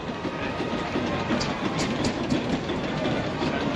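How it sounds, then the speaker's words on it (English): A Paxman steam traction engine at a steam and country show, a steady loud mechanical rumble with rhythmic clanking and hissing, running continuously close by without speech. "David Paxman traction engine."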